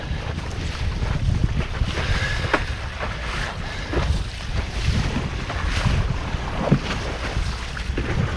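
Strong wind buffets the microphone on open water aboard a boat, a steady roaring rush with waves slapping and no voices.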